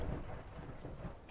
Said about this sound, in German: Gewitter ist hier im Game, ey.